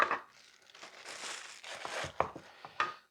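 Close, crackly crinkling and rustling of packing material being handled while unboxing a Maircle F1 smart wet dry vacuum cleaner, in short uneven bursts.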